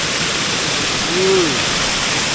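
Loud, constant rush of flowing water filling the scene, with a brief faint voice-like tone rising and falling partway through.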